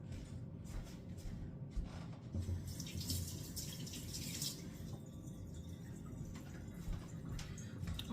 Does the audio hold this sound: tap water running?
yes